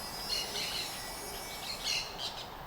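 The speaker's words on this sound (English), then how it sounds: "I came across a family of red-crowned woodpeckers" Several red-crowned woodpeckers give high, scratchy squawking calls in quick bursts, fairly close, over a steady outdoor background near Panama City.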